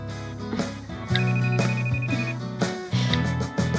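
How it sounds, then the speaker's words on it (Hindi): A phone rings with an incoming call, its electronic tone repeating in a steady pattern over background music in a dubbed drama scene, with no one talking. "चलो फोन रखती हूँ, मेरे पापा फोन कर रहे हैं।"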